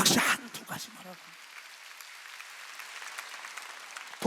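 A church congregation at a Korean Sunday worship service breaks into a short, loud burst of applause, which cuts off into a quiet hall hum before another brief surge of clapping starts at the end.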